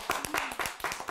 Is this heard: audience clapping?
yes